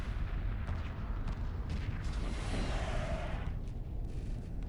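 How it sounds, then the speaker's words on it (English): A missile destroyer firing volleys of missiles in Homeworld Remastered, a dense rumbling barrage of repeated launch bursts and booms layered over a heavy low drone. "Look at it pop off those missiles."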